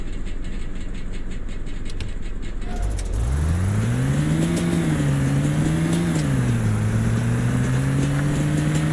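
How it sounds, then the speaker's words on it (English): An SMZ microcar in the video game A Desrt sets off after a quiet idle, its engine drone rising and wavering in pitch as it accelerates, loud and steady to the end. "it's time to test the acceleration, speed and fuel consumption of the SMZ car"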